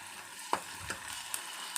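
Onion and ginger paste fries in a pan with a soft, steady sizzle, broken by a few faint clinks and scrapes of stirring, close by and fairly quiet, with no talking.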